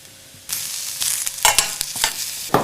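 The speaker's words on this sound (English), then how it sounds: "We're going to very gently saute the mushrooms." Quartered mushrooms sizzle gently in a pan, a soft steady frying hiss with scattered stirring scrapes and clicks up close, no one talking.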